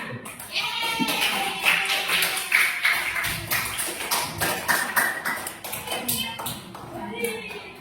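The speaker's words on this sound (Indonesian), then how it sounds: "Tepuk tangan semuanya" A primary school classroom of children claps for two classmates, a sustained burst of many overlapping hand claps at close range, steady for several seconds with a few voices mixed in.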